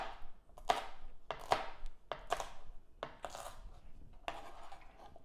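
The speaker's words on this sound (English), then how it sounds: "I want to cut up my green pepper." A knife chopping a green pepper on a cutting board, with sharp, crisp cuts in an irregular rhythm, close and fairly quiet, with no talking.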